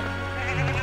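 A sheep bleats in the video game LEGO Worlds, a short loud wavering cry set over a steady droning game soundtrack.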